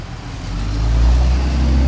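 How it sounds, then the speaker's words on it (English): A FedEx truck rolls past close by, a deep low rumble swelling steadily louder over two seconds with no voices. "We'll wait for the truck to go by."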